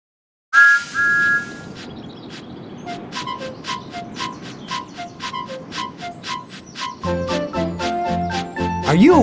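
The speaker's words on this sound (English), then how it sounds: "pull Thomas's whistle." Thomas the Tank Engine's whistle gives a short toot in the Thomas and Friends Railway Adventures video game, followed by a run of tinkling, chiming game music.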